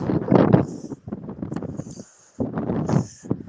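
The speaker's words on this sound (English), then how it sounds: "It's a little windy today" Wind blowing outdoors on a brisk morning at a car dealership lot, heard as low gusty rumble and microphone buffeting that rises and falls in bursts, briefly dropping away mid-clip before surging again.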